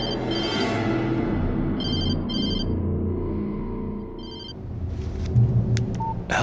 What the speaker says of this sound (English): She was startled by the phone.